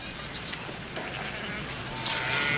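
A newborn lamb bleats in a short, wavering call near the end, over a steady hiss that sounds like rain, with no other clear voices.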